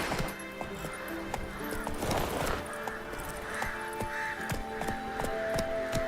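Roach, Geralt's horse in The Witcher 3, gallops with steady clip-clopping hooves under game music and ambient noise, fairly faint in the mix.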